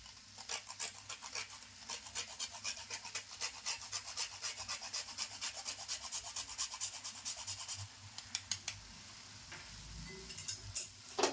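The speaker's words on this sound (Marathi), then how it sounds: "थोडंसं जायफळ पण मी किसून असं टाकते" Nutmeg is grated by hand over a fresh coconut filling for karanji, a steady series of close, quiet rasping strokes with a few brief pauses.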